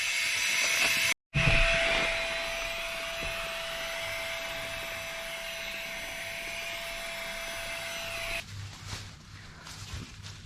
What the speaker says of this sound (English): That pump took no time at all to blow this up.